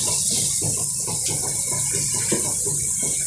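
Water pours steadily into a pan of potato and egg curry to make the gravy, a close, continuous splashing rush with no voices.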